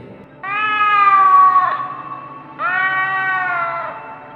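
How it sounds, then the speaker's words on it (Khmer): A cat yowls from a rooftop in two long, wavering drawn-out cries, loud and close, with a short pause between them and no talk. "សំឡេងឆ្មាបានស្រែកលេងយ៉ាងគ្រលួចបានបន្លឺឡើងពីលើដំបូលផ្ទះ"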